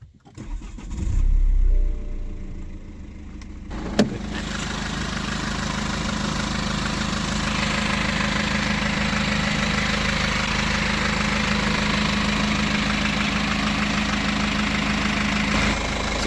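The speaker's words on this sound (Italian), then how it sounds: "Accendiamo questo motore, sentiamo come si comporta." A BMW 525d with a 218 hp diesel engine cranks briefly, fires up with a sharp catch, and then settles into a steady, loud, close idle with a rough diesel clatter that runs to the end.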